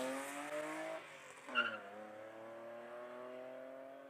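An E30 BMW classic race car pulls away from a start line at a Cape Town speed event, its engine note climbing over a steady drone, with a brief sharp squeal or chirp midway.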